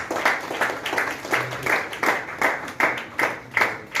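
Applause from the audience at a Kerala commerce teachers award event, a brief stretch of steady, pulsing clapping heard close and without speech.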